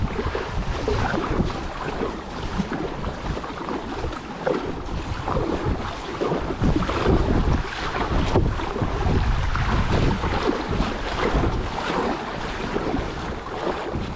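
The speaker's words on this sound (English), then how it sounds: "a nice little bit of a breeze there" Steady wind rushing across the microphone while kayaking in Eryri, a continuous broadband roar with soft water wash underneath, close and fairly loud throughout with no talking.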